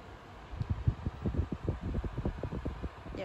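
A Xiaomi electric fan turned up to its highest setting, a soft, steady whirr with faint rhythmic pulsing, quiet and close, with no voices over it.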